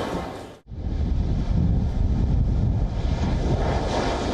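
A passenger airliner that has just landed, its engines and rushing air forming a loud, steady roar broken by one sharp dropout near the start, with heavy wind buffeting throughout.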